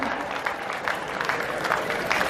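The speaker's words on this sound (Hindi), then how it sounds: "जोरदार तालियों के साथ।" Applause at a school annual function, a steady wash of clapping from the audience lasting a couple of seconds at moderate level, with a faint voice mixed in.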